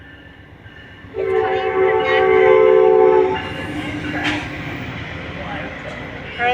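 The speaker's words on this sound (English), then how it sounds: "you can take Amtrak here" An Amtrak train rolls past near an interstate exit, its horn sounding as a loud sustained chord for about two seconds, then the rumble fades under traffic noise while a voice briefly speaks.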